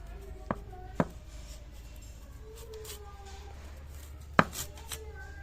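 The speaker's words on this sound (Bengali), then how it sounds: "সরু সরু করে আগে কেটে নিচ্ছি" A knife cuts elephant apple (chalta) into thin strips on a board, giving three sharp isolated chops spaced unevenly, close but light, over quiet background hum.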